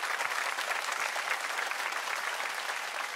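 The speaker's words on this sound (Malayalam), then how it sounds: "ഒരു നല്ല കൈയടി കൊടുക്കാം." Audience applause on a Malayalam comedy stage show, dense continuous clapping from a large crowd, steady and even throughout with no talking over it.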